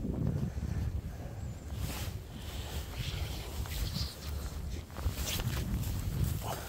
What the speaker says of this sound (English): Hopefully I'm shielding you from the wind.